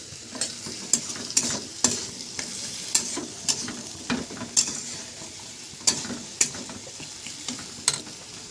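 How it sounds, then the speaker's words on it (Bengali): Ridge gourd and potatoes sizzle in a pan while a utensil stirs them in repeated sharp scrapes and clacks at an irregular rhythm over a steady frying hiss, close up and without speech. "ঝিঙে ও আলুকে একটু কষিয়ে নেব"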